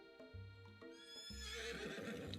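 Colonel Sanders' horse in the video game I Love You, Colonel Sanders! lets out a loud, clear neigh that rises into a long, bright whinny, with hoof clops underneath.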